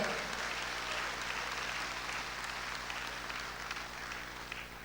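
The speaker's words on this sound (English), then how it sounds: "Please, a round of applause for Farida." Audience applause at a grand opening plenary session, a steady, sustained wash of clapping that fills the whole stretch at moderate distance and fades slightly toward the end.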